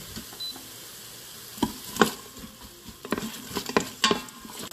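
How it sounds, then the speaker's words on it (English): Onions sauté in oil inside an Instant Pot for beef stroganoff, a soft sizzle under a few sharp scraping stirs and clicks of a utensil against the pot, close up with no talk. "Saute the onion."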